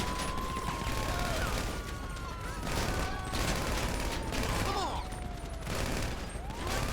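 Gunfire in GTA V, repeated sharp shots in bursts and single cracks over several seconds, close and loud, with a voice talking underneath at times.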